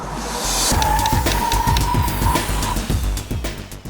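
An Audi A3 Sportback 35 TDI brakes hard in a test. Its tires squeal in a sustained screech for about two seconds over road and engine rumble, then fade out.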